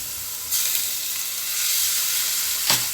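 Water is poured into egg fry curry (kulambu) in a hot pan, setting off a loud, steady sizzle, with a brief scrape of stirring near the end.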